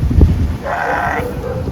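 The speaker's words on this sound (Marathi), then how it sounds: "तर गाईज बघा आमच्याकडे शेळ्या आल्यात," Goats visiting a home, one giving a short, clear, wavering bleat close by after brief low background noise.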